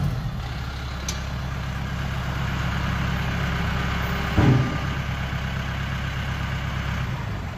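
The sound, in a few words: Mahindra 1538HST tractor engine running with PTO on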